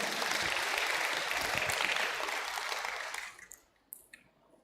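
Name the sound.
audience applauding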